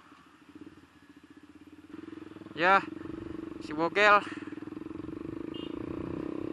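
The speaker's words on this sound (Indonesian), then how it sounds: "Si bogel ini udah gue ganti pakai knalpot racing." A motorcycle fitted with a Termignoni racing exhaust idles in a pulsing, throaty putter that grows louder partway through, under brief voices.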